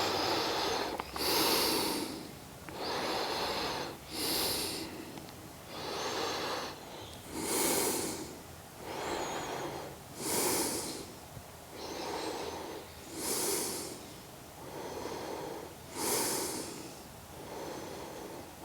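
Slow, steady breathing during a yoga forward fold, with about a dozen deliberate, audible inhales and exhales repeating in an even rhythm, close and clear with no talking.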